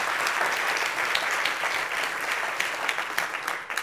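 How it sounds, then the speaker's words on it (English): An audience at a Women in Digital Switzerland event applauds the organizers with dense, continuous clapping that holds a steady, even level throughout. "So a round of applause for them too, please."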